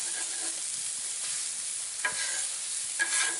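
Meat and vegetables sizzle steadily on a hot grill, a continuous bright crackle, with a couple of soft scraping taps of a utensil stirring them.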